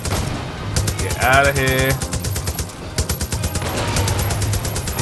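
Automatic gunfire in Far Cry New Dawn, a rapid, steady stream of sharp shots hammering on for several seconds, loud and close, with a brief pause in the middle and someone talking briefly over it.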